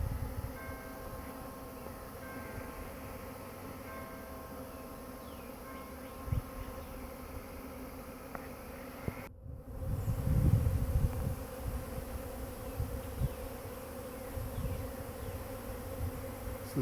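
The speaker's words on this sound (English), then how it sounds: "This is my first captured swarm from a swarm trap." A honeybee swarm arriving at a swarm trap makes a dense, continuous buzzing hum, close and loud, with individual bees droning past throughout and a brief cut partway through.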